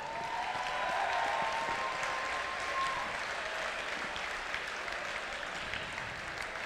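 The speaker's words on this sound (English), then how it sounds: "I'd also like you guys to give applause to all the volunteers and mentors who helped make this event possible." An audience claps steadily and continuously at the Minne Mini 2017 FIRST Robotics STEAMWORKS off-season regional competition, a dense, even wash of applause from a large crowd throughout.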